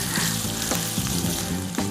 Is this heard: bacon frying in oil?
yes